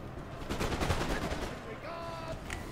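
Musket volley fire from infantry in the Napoleon Total War game, a dense crackle of overlapping shots in the first half followed by quieter battlefield noise and faint tonal game sounds, with voices murmuring underneath.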